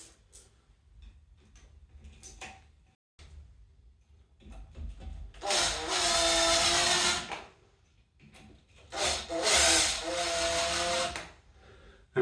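Power drill driving toilet seat bolts until snug, two loud whirring bursts of a couple of seconds each separated by pauses, with faint clicks and handling noise in between.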